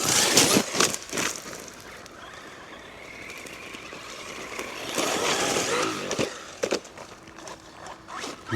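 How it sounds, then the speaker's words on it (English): Arrma Vorteks RC car on Proline Trencher tyres running over rough terrain, a scratchy, rasping tyre-and-gravel noise that swells and fades with a few sharp scuffs, moderately close, no talking. "I hear a bit of a tyre noise there."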